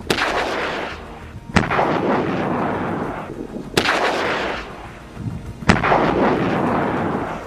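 Anti-tank guided missiles are fired at an IDF military vehicle in Tal al-Sultan, Rafah, southern Gaza: four loud, sharp blasts spaced about two seconds apart, each trailing into a heavy, rolling rumble.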